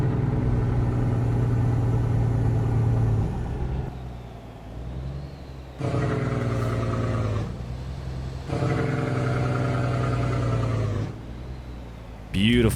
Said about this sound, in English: Beautiful, beautiful Jake brake.